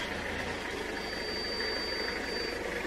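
Diesel engine of a 20-year-old Toyota HiAce 100 series van idling close by, a steady low rumble with a faint high whine running alone, no voices.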